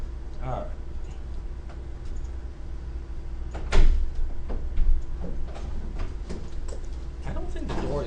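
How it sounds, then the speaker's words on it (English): A classroom door is tried and opened, giving a couple of short clunks and a rattle over steady room noise while people talk nearby. "I don't think the door is locked."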